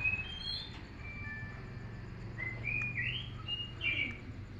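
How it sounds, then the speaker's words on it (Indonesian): A pet myna bird (beo) gives a series of clear, whistled chirps and short tonal calls, close by, over a low background hum. "Beo, itu Beo ya?"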